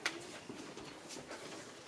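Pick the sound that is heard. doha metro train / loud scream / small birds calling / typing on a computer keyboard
small birds calling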